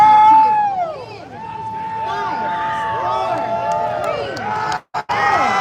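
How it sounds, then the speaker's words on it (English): A crowd at a tournament during the LA FitExpo screams and cheers in a dense chorus of many overlapping high voices with rising and falling whoops, loud and sustained, with a brief break near the end. "Okay, crowd, whoever screams the loudest, Bill is going to be throwing a t-shirt out to you."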